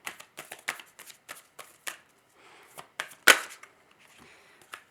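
Tarot cards shuffled and drawn by hand in a pick-a-card reading: a run of quick, crisp flicks and riffles with one louder snap near the middle, close up, with no talk.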